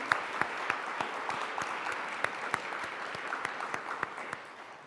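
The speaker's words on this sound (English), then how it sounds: "So I'd like to take a moment to do a round of applause for everyone who's here today" Modest applause from a small audience at a gathering on uterine fibroid awareness, with distinct individual claps standing out over a soft, steady patter.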